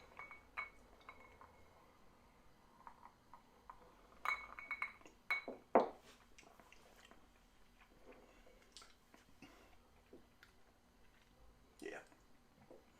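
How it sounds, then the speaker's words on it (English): Glasses of single barrel rum clink together in a toast, a few bright ringing taps clustered in the middle among scattered small knocks, with people talking quietly in the background. "All right, clink them and drink them."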